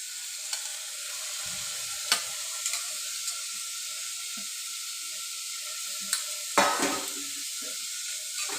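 Carrot, beans, tomato and green chilli sautéing in ginger-garlic paste for a vegetable biryani, a steady soft sizzle throughout with a few sharp clinks of a spoon against the pan.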